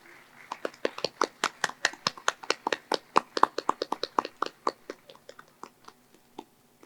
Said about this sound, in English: Please everyone give a round of applause.